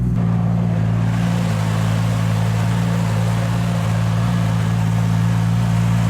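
A 1500HP Toyota Supra with a 2JZ engine and ETS titanium exhaust idles loud and close, its deep, steady droning rumble holding even for several seconds without speech.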